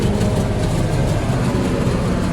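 A loud, steady engine drone fills the cab of a John Deere 4020 tractor, heavy and low, heard from inside the running machine.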